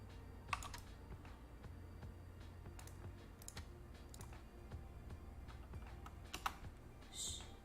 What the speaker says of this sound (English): I gotta use my keyboard.